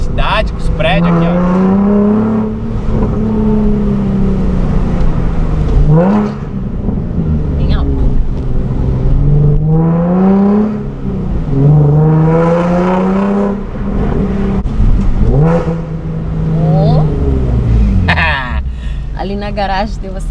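A Nissan 370Z drift car rises and falls through repeated loud engine revs with a throaty exhaust, driving around a city among buildings, while people talk throughout.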